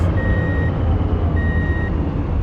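Two electronic reversing beeps in the video game Truck & Logistics Simulator sound over a steady, loud rumbling truck engine, spaced about a second apart.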